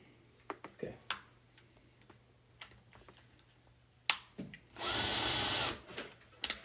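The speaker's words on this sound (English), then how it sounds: "I'm just pre-drilling my little holes." A short burst of an electric drill pre-drilling holes whirs for about a second, surrounded by scattered taps and clicks in a quiet room.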